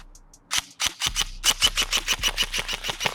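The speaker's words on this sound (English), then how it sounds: "Press the bolt release." Pressing the bolt release on an airsoft AEG rifle gives a couple of sharp mechanical clicks, followed by a quick rhythmic train of snappy shots, close and crisp.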